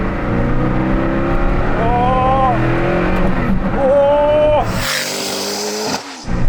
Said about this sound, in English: Time to take the Hennessy Venom out for a drive on a twisty, narrow road.